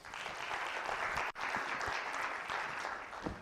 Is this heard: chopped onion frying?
no